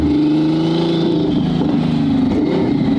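A Ferrari engine under hard throttle, loud and close, with a steady droning rev that dips and climbs through gear changes, rough crackling pops mixed into the roar.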